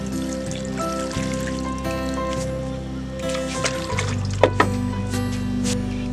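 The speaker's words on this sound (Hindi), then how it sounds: "अब इसको अच्छे से पानी दे दीजिए।" Water poured into a potted aloe vera plant, a continuous trickling fill with a few drips and a squishy gurgle near the end, close by and fairly loud over a faint background hum.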